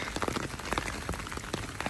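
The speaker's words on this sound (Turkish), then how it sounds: "E tabii ki evet yağmur da hızlandı." Rain falls steadily on the street near the Colosseum in Rome, a dense close patter of drops striking hard surfaces with no voices heard.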